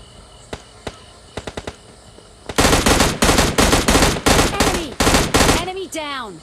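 An M16 rifle fires in the PUBG Lite mobile game. A few faint clicks lead into a loud series of rapid, evenly spaced shots, and whooshing, sweeping tones trail off at the end.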